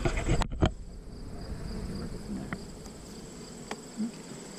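A soft, steady buzz of many honey bees on a hive frame hums throughout, with a few close clicks and knocks at the start and scattered faint taps.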